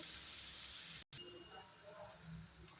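Masala sizzling and frying in a pan over a lowered gas flame, with a steady hiss broken by one brief cutout, then softer spitting and crackle that continues without pause.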